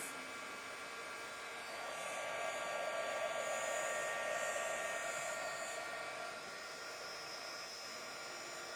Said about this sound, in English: So I use the heat gun to speed up the process.